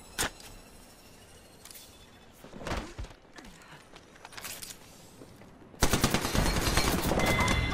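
Gunfire in an online battle royale shooter match: scattered single shots and short bursts at varying distances, then a sustained loud rapid-fire volley near the end, with no talk.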